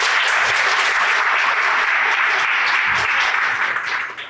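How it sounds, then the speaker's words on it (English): An audience at a TEDx talk at Lake Forest College breaks into full, loud applause, a thick uniform roar of clapping that holds steady before tapering off at the end. "Everyone, please give her a round of applause."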